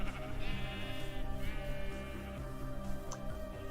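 Sheep bleating in Minecraft, several wavering calls in a row over a steady tonal game background, moderately quiet and alone without talk.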